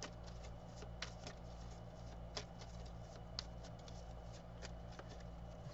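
Tarot cards being shuffled by hand, quiet and close: soft, continuous riffling and patting with small crisp snaps at irregular intervals over a low steady hum. No one speaks.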